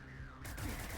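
Gunfire from the tactical video game Cyber Knights: Flashpoint, a sudden loud burst of shots that breaks in midway and runs as a dense fusillade to the end.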